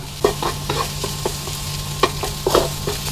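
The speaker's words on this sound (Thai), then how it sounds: "ให้เราใส่ข้าวสวยลงไป ผัดให้เข้ากัน" Rice and canned fish are stir-fried in a pan for tom yum fried rice: a soft, steady sizzle broken by sharp, irregular spatula taps and scrapes, with no one talking.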